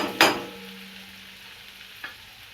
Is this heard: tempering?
yes